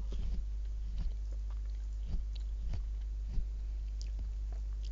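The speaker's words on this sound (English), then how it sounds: "Sorry for the chewing." Close, soft chewing and biting sounds repeat irregularly over a low steady hum, with small crunchy clicks in quiet indoor surroundings.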